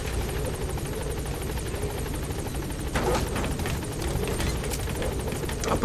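A helicopter in the video game Metal Gear Solid V drones with a steady, loud rotor chop throughout, swelling slightly partway through, with no talk over it.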